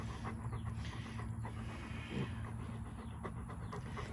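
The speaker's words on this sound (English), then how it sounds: "That's a good dog right there." A dog pants softly and steadily outdoors at a homestead, faint rapid breathing under a constant background hum, with no clear talking.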